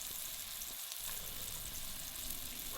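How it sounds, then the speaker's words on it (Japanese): A bone-in ribeye sears in a thick-bottomed pot, giving a quiet, constant sizzle and crackle of fat frying, heard alone without speech. "肉を焼いている間、肉が鍋底に当たっている間、その他の部分がゆっくりと温められます。"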